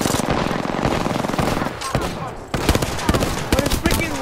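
Rapid automatic gunfire in the online shooter game Aimbot.Exe, dense bursts of shots rattling loudly and continuously, with a few separate cracks near the end.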